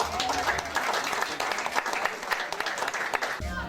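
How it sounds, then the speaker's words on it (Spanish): A family gathering breaks into applause, many people clapping in a lively, uneven burst with voices and cheers mixed throughout, ending abruptly just before the close. "¡Un aplauso!"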